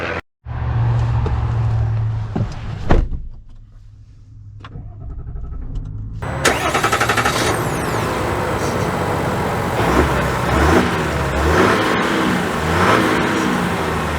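2024 Chevy Silverado 1500 RST pickup with the Duramax diesel pulls away, a low engine hum heard from the cab with a whirring power-window-like sound early on, then steady road and engine noise as it drives.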